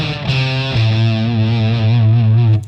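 Electric guitar through a Boss DS-1 distortion pedal with the tone knob at 12 o'clock, a loud sustained distorted note ringing bright and slightly piercing for about two and a half seconds, alone.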